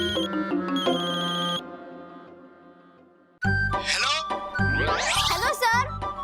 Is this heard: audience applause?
no